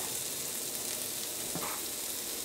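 Chickpeas stir-fry on a high flame for chilli parotta, a dense, loud, continuous sizzle with a faint stir or scrape midway and no talk.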